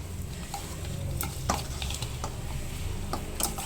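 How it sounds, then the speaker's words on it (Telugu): Tempering spices crackle and sizzle in hot oil in a brinjal dish with crushed garlic: a steady, close frying hiss with light stirring scrapes and occasional sharp pops, no voices. "ఇప్పుడు పోపు పెడతా చూడండి"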